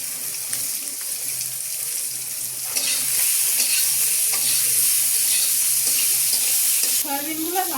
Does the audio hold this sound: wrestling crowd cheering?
no